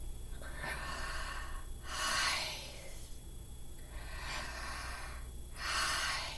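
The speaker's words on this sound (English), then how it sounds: "we're going to kind of breathe it in and out like this" Slow, steady breaths drawn in and let out, a few cycles in a row, soft and close against a quiet background.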